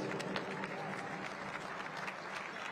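Crowd applause at a boxing event, honoring the two fighters after a six-round bout; a steady, fairly faint wash of clapping with scattered crowd noise.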